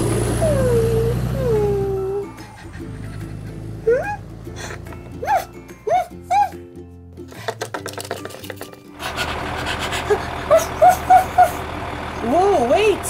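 A Playmobil toy school bus pulls away to electronic sound effects: a low engine drone, then a run of short, loud beeps and warbling tones, with speech-like chirps and a pause before more beeping.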